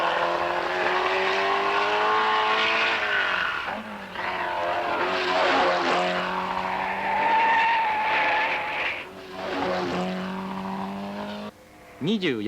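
A Porsche Carrera 6 and a Prince R380 race past a crowd of spectators, loud engines roaring and rising in pitch, with tire squeal, a narrator talking over the racing cars throughout.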